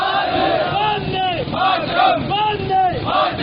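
A protest crowd chanting slogans in rhythmic unison, loud and close, with repeated rising and falling shouted phrases.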